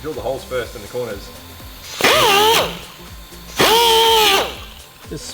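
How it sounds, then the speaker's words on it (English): A power drill bores holes in the corners of a cutout during a turbo V6 Camry build, two sharp whining bursts that rise and fall in pitch, close and loud, with a few lighter knocks and rattles between them. "Pro tip, drill the holes first in the corners."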